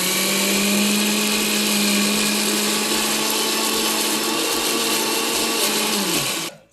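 A kitchen mixer grinder whirs loudly and steadily, blending poppy seeds with water into a smooth paste for gasagase payasa. The motor hums evenly under a rattling grind, then quickly slows and cuts out at the end.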